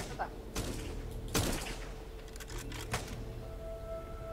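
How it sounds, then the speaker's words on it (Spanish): Sharp gunshots from the survival game Miscreated crack out in a few separate bursts, several loud single reports and short volleys against a low hum, with a faint voice murmuring now and then. "¿Quién está disparando aquí tan cerca con esta NAC?"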